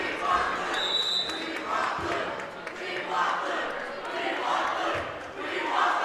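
High school boys basketball crowd at Corry, Pennsylvania, chants rhythmically in the gym during a late timeout, repeated swelling shouts at a moderate distance with a faint whistle tone.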